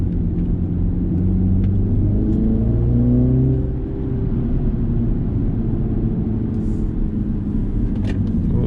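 A 2020 MINI John Cooper Works Clubman driving the Tail of the Dragon mountain road: a loud, continuous engine drone with revs swelling and easing through the curves, heard close up from inside the car.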